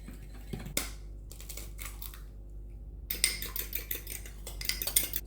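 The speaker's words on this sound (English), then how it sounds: "Mix that in, and then also mix the butter in." Sugar and butter are mixed into Cape Malay koesister dough in a home kitchen, producing uneven bursts of scraping, clicking utensil sounds with short pauses. The sounds turn busier and more rapid toward the end, with no voices.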